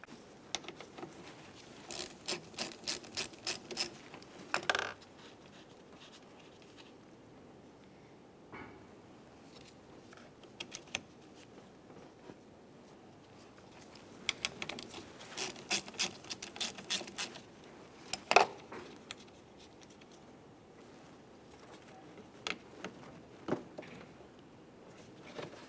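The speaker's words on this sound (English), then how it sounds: "we'll use a 12mm socket to remove each of the mounting nuts." Ratchet with a 12mm socket loosening fuse block mounting nuts on a 2004-2015 Nissan Titan, heard as bursts of quick, close metallic clicking separated by quieter pauses.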